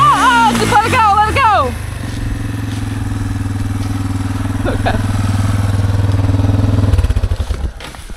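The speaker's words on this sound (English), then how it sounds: "Give it a little rev, because it was down." Dirt bike four-stroke enduro engine on a hillside, a steady loud idle-like drone that swells into a revving run before cutting off, with someone talking over the start.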